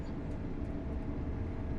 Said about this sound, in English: we actually are in neutral in the throttle here, just letting the train run through